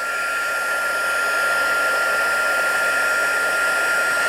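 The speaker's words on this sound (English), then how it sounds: "this is going to get noisy, but I'm going to heat emboss this" A heat gun on medium, used for heat embossing, blows continuously with a steady airy whoosh and a thin high whine, loud and close throughout, with no voices.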